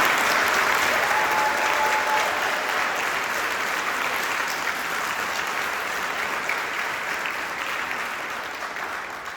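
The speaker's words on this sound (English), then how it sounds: "And yes, please applaud." Audience at a Webster University choir concert applauds in a steady, dense burst of clapping that stays loud for about nine seconds and then slowly thins and fades.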